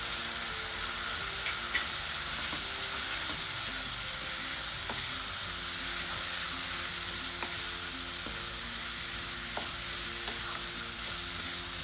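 Spices and tomato sizzle steadily in hot oil for dried fish thokku, a continuous crackling fry with occasional faint stirring clicks and no voices.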